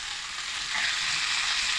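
Onion fries in oil in a pan for a pizza tomato sauce, giving a short, steady, close sizzling hiss that swells slightly partway through.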